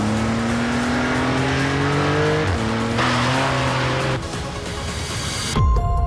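A Porsche GT2 RS, a 3.0-litre twin-turbo flat-six sports car of about 700 hp, drives past with its engine note climbing through gears and dropping at each shift, ending in a brief tire squeal.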